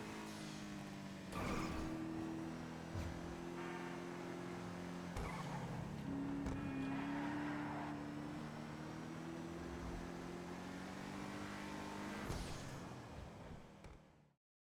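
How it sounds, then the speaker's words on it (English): A powerful modern muscle car engine in GTA Online drones and revs while driving, its pitch rising and falling with gear shifts, fairly loud and close, then cuts off abruptly. "a modern day muscle car that not only looks good but sounds good"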